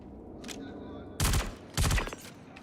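Two loud bursts of rapid gunfire from a buffed weapon in a video game, each lasting about half a second, fired close and sharp with a short gap between them over a quiet game background.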